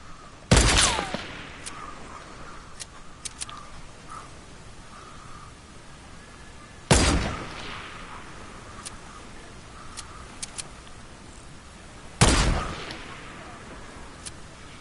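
Submachine gun fire in a video game lands as three sharp, loud bursts spaced about six seconds apart, each decaying into a ringing tail over a low background hum with faint scattered clicks in between.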